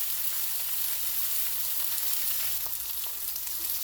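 Steak and bacon fry in a cast iron pan on a stovetop, an even, hissing sizzle that stays steady and close for a few seconds with a faint shift near the end.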